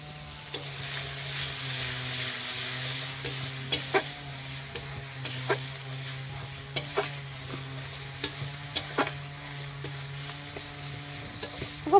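Spice paste with a little water and turmeric is stir-fried for moong dal: a continuous sizzle with irregular sharp clacks of the spoon against the pan, close and fairly loud.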